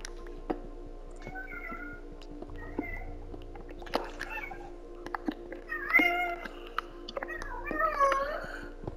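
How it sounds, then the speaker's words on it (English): Cats meowing in the Minecraft video game, several short high mews scattered across the stretch, fairly faint, over quiet ticking background sounds. "Your cats are singing."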